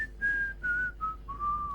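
A person whistles a clumsy, wavering tune of several long held notes, each one sliding slightly downward in pitch, clear and close with nothing else going on.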